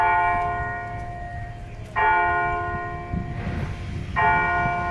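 Two resonant church-like bell strikes, each a rich ringing tone that lingers and slowly decays, with low background noise between them.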